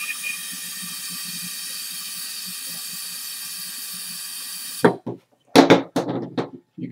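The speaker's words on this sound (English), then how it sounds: "Now, it's spontaneously boiling, and as it boils, it cools until it reaches its normal boiling point" Liquid butane boiling spontaneously inside an aluminum wire flask gives a steady hiss for several seconds, then cuts off, followed by a few sharp bursts.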